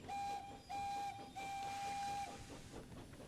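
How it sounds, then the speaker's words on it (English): A steam engine's whistle in a train video game blows in three sustained tonal blasts, the last one the longest, loud and near over a hissing rail background. "if you do blow a whistle near another engine like this."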